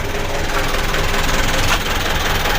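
A car's transmission makes a steady, loud whirring and rattling noise while the clutch pedal is pressed, a continuous mechanical drone heard up close.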